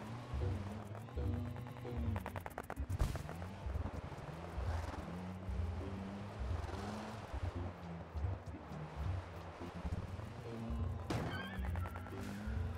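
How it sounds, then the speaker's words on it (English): A horse whinnies amid dense video game audio with music and rumbling effects, the neigh rising briefly above a busy, continuous mix, as if the horse was just hit. "Sounds like I just hit a horse."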